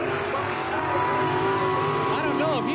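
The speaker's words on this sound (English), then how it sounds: "The big block Chevrolet engines are wailing as they go down that backstretch." Big block Chevrolet engines of racing swamp buggies wail loudly down a backstretch, a sustained high-revving roar with shifting pitch and a rising whine near the end, with a commentator talking over it.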